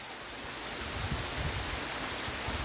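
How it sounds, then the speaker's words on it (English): Steady broadband rush of the waterfall at St Audries Bay, a continuous roar of falling water filling the scene evenly from start to finish with no voices. "And that waterfall"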